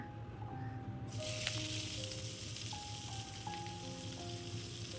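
Whole cumin and other whole spices sizzle in hot oil, then a loud burst of frying erupts as chopped onion hits the pan and keeps crackling steadily, with low tones of a background hum underneath.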